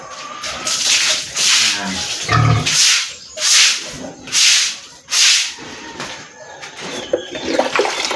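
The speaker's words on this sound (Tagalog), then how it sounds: "Bago natin buhusan ng tubig." Water poured in repeated splashing bursts while cleaning a dirty surface, about five loud close pulses in an even rhythm with a few scrubbing sounds between, then quieter rubbing at the end.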